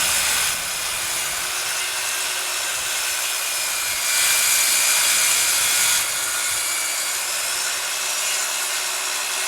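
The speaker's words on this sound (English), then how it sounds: "For the cut, I'm using a consumer grade circular saw and a 7 1/4 inch 24 tooth general purpose sawblade.com blade" A consumer-grade circular saw with a 7 1/4 inch 24-tooth general purpose blade, running along a track saw guide through wood, gives a steady whining cut that swells briefly louder midway, with no talk.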